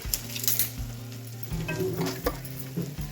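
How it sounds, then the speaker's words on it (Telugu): Cloves, cardamom and cinnamon stick sizzle in hot oil for an egg masala curry, a continuous close crackle with occasional stirring bursts over a faint tonal background. "రెండు లవంగాలు ఒక ఇలాచి దాల్చిన చెక్క ఇలా వేసుకోవాలి"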